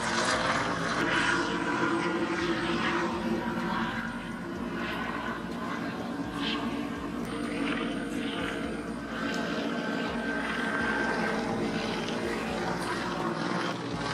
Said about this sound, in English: There's a helicopter up in the sky.